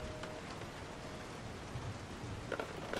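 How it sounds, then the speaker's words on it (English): Steady rain falling in the horror game Resident Evil 7, a soft continuous hiss with a few faint clicks and knocks near the end, no voices. "I actually really like the rain. It's quite soothing."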